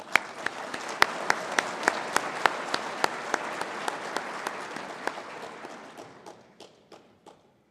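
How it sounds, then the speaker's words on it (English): Dinner guests at an Eagle Scout recognition dinner give a standing round of applause for an honoree, a dense, steady wash of clapping with sharp individual claps, thinning out and fading over the last couple of seconds. "If you'd please stand for a round of applause."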